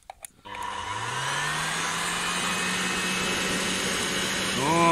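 A vacuum cleaner blows air into a homemade mini forge fired with wood, switching on after a few clicks and rising into a steady, loud roaring whoosh with a whining tone that holds to the end.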